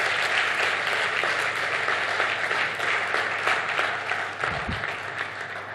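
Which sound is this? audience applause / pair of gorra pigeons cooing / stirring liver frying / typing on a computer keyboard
audience applause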